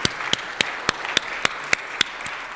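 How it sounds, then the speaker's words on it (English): Audience applause at the Baltimore Symphony Orchestra annual meeting, a steady rain of many hands clapping with regularly spaced sharp claps cutting through, fairly loud and close, with no talking. "Let's do another round of applause."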